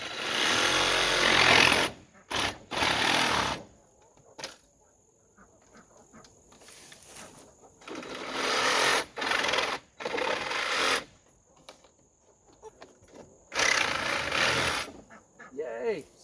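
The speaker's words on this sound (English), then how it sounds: "Sawzall worked." A Sawzall reciprocating saw cuts in several loud bursts, separated by quieter gaps, while building a DIY rainwater catchment system.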